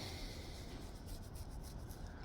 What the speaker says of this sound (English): Sand, more sanding.